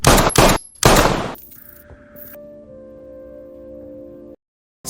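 Several loud, sharp gunshots from a film burst in quick succession, then give way to a lingering low ringing hum that fades into silence.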